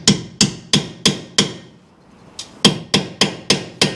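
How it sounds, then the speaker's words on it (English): A hammer striking a part on the front end of a 1964 Chevy II, struck in an even rhythm of sharp metallic blows, five hits, a short pause, then six more, close and loud. "you're gonna have to whack the top one with a hammer probably"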